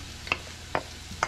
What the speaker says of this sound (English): So I'm going to put in my cooked potatoes and carrots.